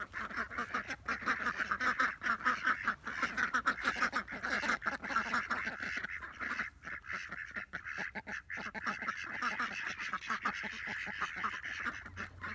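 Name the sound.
ducks quacking while being put away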